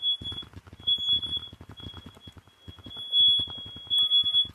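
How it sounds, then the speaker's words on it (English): A household smoke detector set off by smoke from bacon cooking in a home kitchen shrills in a steady high-pitched tone, recurring through the moment, loud beside nearby voices and clatter. "We're just cooking some bacon and the smoke hit the smoke detector."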